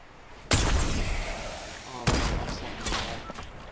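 Two sharp, loud gunshot blasts from a Fortnite duos match, one at the start and one midway, each followed by a noisy tail and scattered smaller impacts.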